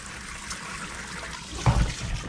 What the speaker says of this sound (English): we're gonna rinse them off in our colander over here